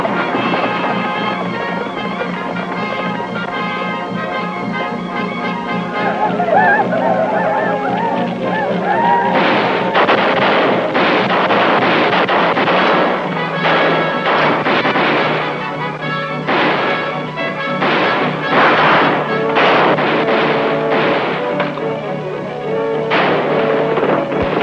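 Gunfire in an old western film, with a rapid run of sharp shots and booming reports over a dense, noisy soundtrack of music and commotion, loud and continuous in the second half.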